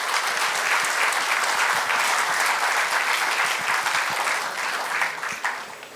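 A large crowd at a rural development conference in India claps steadily and loudly for several seconds, the applause fading slightly at the end.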